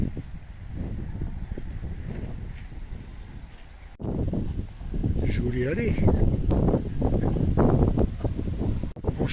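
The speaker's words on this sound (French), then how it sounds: "Franchement, du vent tous les jours." Steady wind noise buffets the microphone throughout at a campsite in Turkey, with a person speaking over the gusty rumble.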